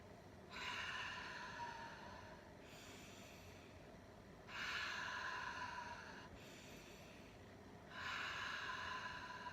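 Slow, rhythmic breathing for nervous-system regulation, about four counts in and four out: three long, airy breath sounds swell and fade at even intervals, close and fairly faint, separated by quiet pauses.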